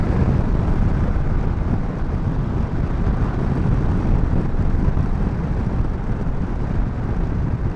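A 2016 Victory Cross Country motorcycle accelerating hard from a standstill through its gears produces a loud, continuous low engine roar. Heavy wind rush blends into it, and the sound stays steady with no clear pauses between shifts.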